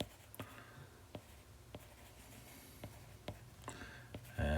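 Pen or pencil strokes scratch faintly on paper as a math answer is written by hand, with small taps and scrapes in a quiet room.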